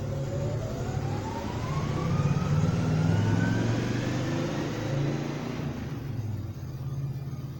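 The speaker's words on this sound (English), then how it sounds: "it was a car driving by" A car driving by, its engine and tyre noise swelling to a peak and then fading, with a gliding tone rising across the pass.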